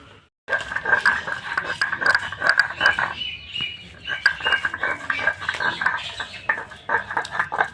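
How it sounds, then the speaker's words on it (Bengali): Ginger and garlic ground into a paste by hand for a Bengali mushroom masala, giving a steady series of close scraping and clinking strokes with a repeated bright ring, after a brief quiet start. "এখন আমি আদা রসুনটা বেটে নেব"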